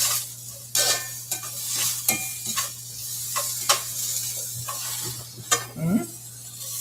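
Home fries fry in a pan under a low steady sizzle, while a utensil stirs and scrapes them with irregular sharp clinks and knocks against the pan, heard close up.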